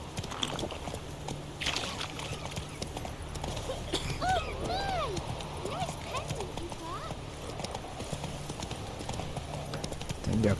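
Roach, the horse in The Witcher 3, gallops with a steady, rapid clip-clop of hooves, joined midway by whooshing game effects and a brief whinny-like sound.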